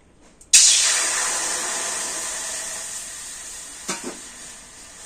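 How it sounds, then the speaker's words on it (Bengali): Water poured into a hot wok of fried spices, an abrupt loud sizzling burst that slowly fades into a steady hiss, with a couple of small clinks near the end, close and without talk. "আর এবার আমি কড়াতে দিয়ে দেব জল।"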